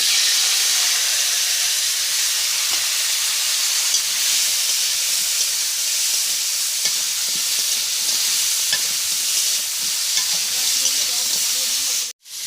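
Crab pieces fry in hot oil seasoned with salt and turmeric, a steady close sizzle and hiss running unbroken throughout, ending with a brief loud clatter.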